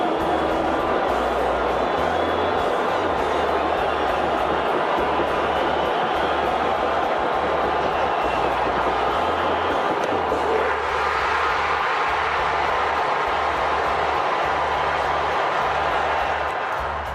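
Old radio broadcast of a baseball stadium crowd at the final out: a steady, dense roar of many voices throughout, rising and shifting partway through, with a low hum underneath.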